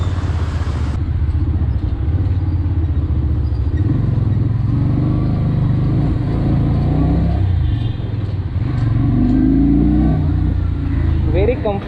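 Keeway K Lite V 250 motorcycle accelerating, a loud continuous engine drone with rising revs while riding, heavy wind noise over it throughout.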